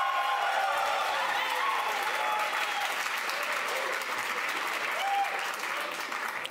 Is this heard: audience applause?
yes